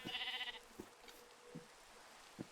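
Sheep in a Minecraft modpack game give a short wavering bleat, followed by a few faint, soft taps spaced across the quiet background.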